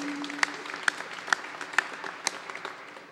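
A small audience at the grand opening of the SFPUC Contractors Assistance Center in San Francisco claps sparsely: about eight separate, fairly faint hand claps scattered unevenly over a few seconds, with a low hum underneath.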